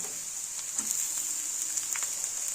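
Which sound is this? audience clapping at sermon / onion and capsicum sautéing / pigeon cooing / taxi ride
onion and capsicum sautéing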